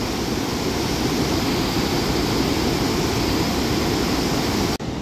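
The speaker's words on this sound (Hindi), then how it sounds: "थोड़ा सा दूर जा कर के हम देखते हैं नदी का हाल" A rushing, flooded river in Uttarakhand roars as a dense, constant broadband torrent, loud and close, running unbroken for several seconds with no voices and a brief dropout near the end.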